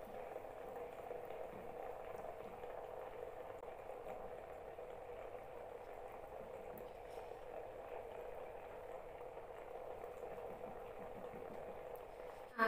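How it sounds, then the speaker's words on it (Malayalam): Water boils in a face steamer pot, a soft continuous bubbling that stays steady and fairly quiet for the whole stretch, with no talking. "ഈ വെള്ളം ബോയിലാകുന്ന സൗണ്ട് നന്നായിട്ട് കേൾക്കുന്നുണ്ടാവും"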